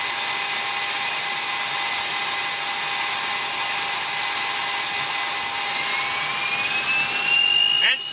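Engines of a US Air Force early warning aircraft at takeoff, a loud steady turbine roar with a high whine that rises in pitch toward the end, with crew voices faintly beneath.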